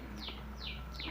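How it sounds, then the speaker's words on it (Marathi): A few short, high bird chirps repeat over a steady low hum at dawn in a village, fairly faint and at a distance. "सकाळचं हे पक्ष्यांचा चिवचिवाट चालू झालेला आहे"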